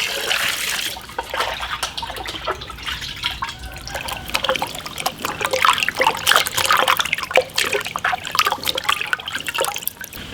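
Running clean water splashes and trickles as pork tripe is rinsed by hand, an irregular spatter of drips and splashes lasting several seconds, close and fairly loud, with no talking.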